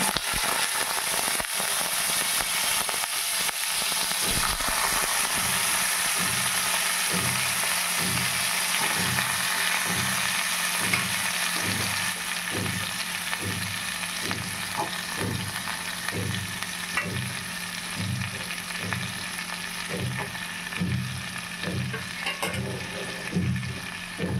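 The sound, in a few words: stirring and frying ash gourd pieces in a pan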